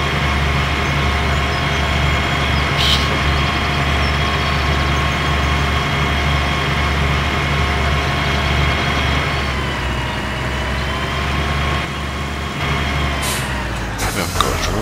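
A tractor engine in the video game Farming Simulator 2013 drones steadily at a low, heavy pitch for the whole stretch, with a slight shift in tone partway through and a few brief clicks near the end.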